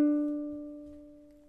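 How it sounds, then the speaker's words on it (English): A single ukulele strum rings out and slowly fades, a bright chord sustained alone with no other sound. "that sounds something like this"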